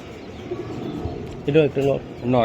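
Male high-flyer pigeons (Giribaaz breed) cooing in a loft, a few rounded coo phrases arriving in the second half over a steady background hum, fairly close and moderately loud.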